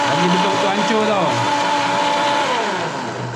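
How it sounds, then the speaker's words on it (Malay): A kitchen blender grinds a spice paste of chillies, shallots and garlic, a loud continuous motor whine with shifting pitch as the blades work through the ingredients, close up and without pause. "Blender bagi hancur tau."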